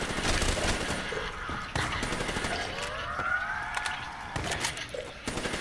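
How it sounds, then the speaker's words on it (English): Gunfire from a shotgun called the Blast in the video game Call of Duty Black Ops III Zombies: several loud, sharp blasts at irregular intervals over steady game noise, with no talk. "Yeah, the Blast is my favorite fucking shotgun."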